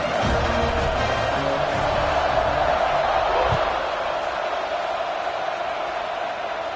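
Football stadium crowd at kickoff, a steady loud roar of many voices filling the air throughout, with a faint thump partway through.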